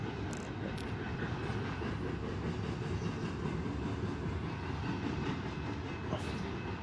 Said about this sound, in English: You can hear the trains going by and behind them.